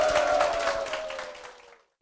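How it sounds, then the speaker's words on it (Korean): Audience applause at a church testimony service: steady clapping from a crowd that goes on for under two seconds, with a held tone underneath, then stops suddenly. "박수로 모시겠습니다."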